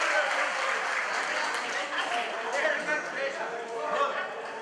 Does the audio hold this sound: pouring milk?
no